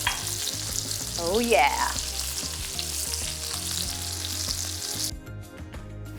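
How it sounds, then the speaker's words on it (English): A steak sears in a hot skillet with a steady, close crackling sizzle that runs for about five seconds, then drops off sharply. A voice briefly exclaims over the frying near the start. "Now she's done searing"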